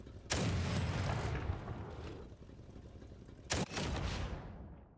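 Two heavy cannon blasts from a tracked armored vehicle in the combat game Crossout, each a loud booming report with a long rumbling tail, a few seconds apart.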